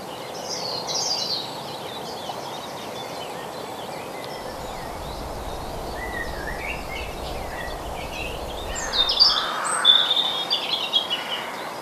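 Skylarks sing over open countryside at a breeding site, with scattered high chirps and twittering phrases drifting at a moderate distance over a quiet outdoor background that livens up toward the end.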